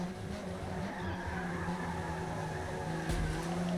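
In Forza Motorsport, a race car drifts sideways with tires squealing steadily over a droning engine, and a sharp thump and skid surge near the end.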